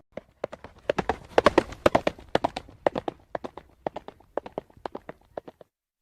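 A phantom horse's hooves clip-clop loudly in the Welsh horror video game Rhiannon: Curse of the Four Branches, a fast, uneven run of sharp hoofbeats that lasts several seconds before stopping.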